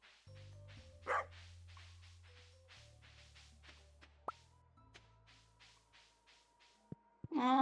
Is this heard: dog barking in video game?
yes